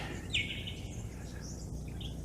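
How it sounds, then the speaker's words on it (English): Faint, distant small finch-like birds chirp and twitter in forest at Tarra Bulga National Park, with a thin, high song over a steady outdoor background hum. "I'm sure you can hear the birds singing."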